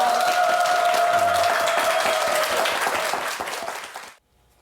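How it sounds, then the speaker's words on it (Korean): A TV morning show studio audience gives a burst of applause, dense clapping with a host's voice briefly heard through it, then the clapping fades out and stops abruptly just after four seconds. "감사의 박수 부탁드리겠습니다"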